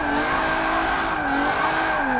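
A Nissan G35 drift build slides sideways in Forza 7 on Suzuka, its engine droning high and steady under a continuous loud tire squeal that wavers in pitch as the car holds the drift.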